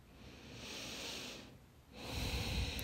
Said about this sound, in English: keep lifting your chest and rib cage while you breathe into your chest for one last breath